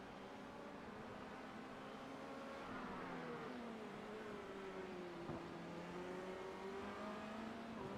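A Formula Renault 2.0 race car in the iRacing simulator accelerates out of the last turn, its engine note holding and then sweeping down and up through gear changes, steady and moderately loud.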